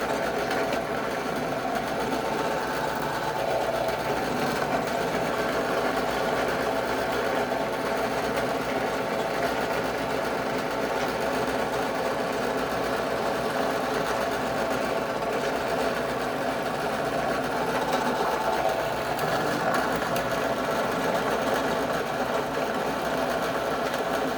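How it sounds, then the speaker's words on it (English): A sewing machine stitches a handmade leather EDC organizer, running as a steady, continuous mechanical whir with a faint motor hum that holds at an even level throughout with no talking. "Alright, so just gonna stitch it up."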